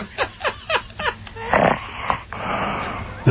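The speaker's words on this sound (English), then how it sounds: "Nothing feminine about this snore" A man snoring loudly on a radio show phone call, with rhythmic raspy breaths in the first second, then rougher, noisier snorts and drawn-out breathing that continue to the end.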